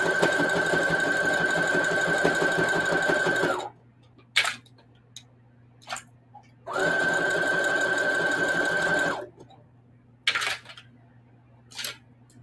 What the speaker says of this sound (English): what I'm going to do is just sew around the edges of these little pieces that I put on so they won't come off